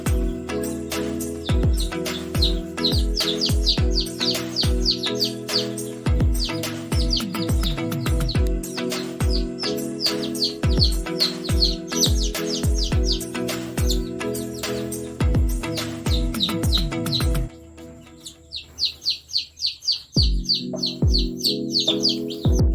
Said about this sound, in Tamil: இது வந்துட்டு 1 வாரம் ஆன குஞ்சு